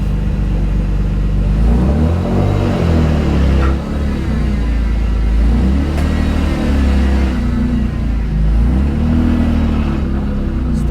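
A turbocharged BMW E36 with an open downpipe exhaust revs loudly up close, its deep engine roar rising and falling in a few swells over a constant heavy rumble.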